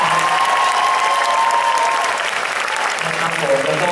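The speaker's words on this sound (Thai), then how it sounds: "ขอเสียงปรบมือนะครับ" Loud, close applause from an audience greeting an orchestra at a talk, thick continuous clapping with a few sustained musical tones and some voice-like sounds mixed in beneath it.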